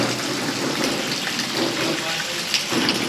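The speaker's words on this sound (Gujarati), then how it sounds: "અત્યારે વરસાદ એટલો થાય છે ને" Heavy monsoon rain falls continuously, a loud, dense, steady hiss of drops hitting surfaces nearby with no pauses.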